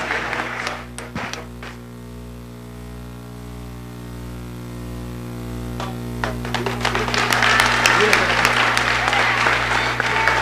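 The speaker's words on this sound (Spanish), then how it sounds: "Un fuerte aplauso para el Padre." Audience applause for a Catholic priest at a debate with a Bible student, steady clapping that builds louder toward the end over a low constant hum, with some voices mixed in.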